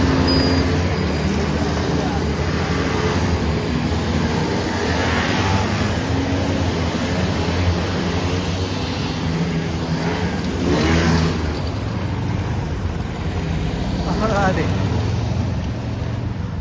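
Nissan GTR racing and revving on a Tokyo street at night, its engine a broad roar that surges and fades amid city noise, with people talking over it.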